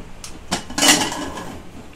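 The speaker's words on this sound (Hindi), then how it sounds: "तो कुकर खोल के देख लेते हैं कि हमारा गोश्त अच्छे से गला है या नहीं।" A pressure cooker lid is twisted and lifted open after cooking mutton, giving a few metallic clacks and scrapes followed by a short hiss of released steam, close and fairly loud.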